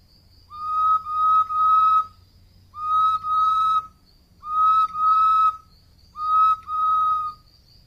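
A bird-call whistle imitates the red-headed cardinal with four evenly spaced phrases, each a pair of clear, bright whistled notes, loud and close against near silence.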